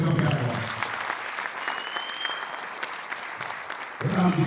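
A crowd at an Ethiopian film launch applauds in a steady, sustained round of clapping. The applause comes between stretches of a speaker's amplified voice at the start and end.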